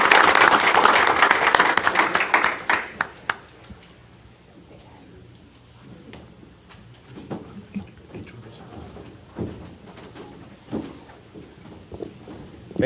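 Applause at a city commission meeting fading out within the first three seconds, followed by quiet room noise with scattered knocks and shuffles.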